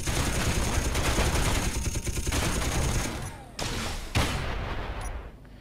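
Ship weapons firing in Space Engineers, a dense, continuous barrage of rapid gunfire for about three seconds, then a few separate heavy blasts with ringing tails as the shooting thins out.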